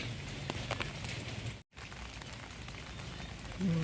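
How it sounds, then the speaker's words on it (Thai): Heavy rain pours down steadily in a dense, hissing patter of drops near a backyard canal, continuous apart from a momentary break, with no voices. "เพราะว่าฝนมันตกยิมยับยิมยับยิมยับนะทุกคน"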